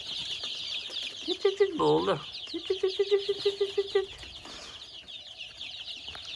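Chicks peeping and clucking as they walk about, a run of rapid, evenly spaced chirps near at hand with a louder burst of calls, over a hissy background while someone speaks briefly.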